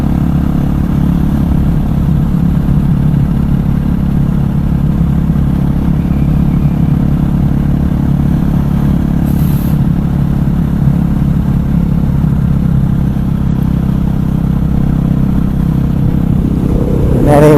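Wind roars around a rider on a KTM 500EXC supermoto on a cold, wet, rainy ride, a loud, constant low rumble with engine noise underneath that stays steady throughout.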